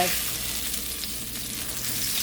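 Salmon steaks searing in a pan with a little oil, giving a steady, close, even sizzle that continues without a break.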